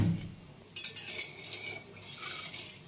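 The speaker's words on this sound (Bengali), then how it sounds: "এই চিনিটা ভালোভাবে নাড়িয়ে জলের মধ্যে একবারে মিশিয়ে নিতে হবে" Sugar stirred into water with a spoon, soft scraping and light clinking strokes against a bowl, quiet and close with no voices.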